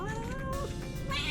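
A former stray female cat in heat yowls loudly in a long, wavering cry that rises and bends in pitch, close by and alone.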